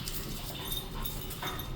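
A Labrador whimpers softly while playing with a large 3D printed basketball, faint high whines and light panting over quiet background noise.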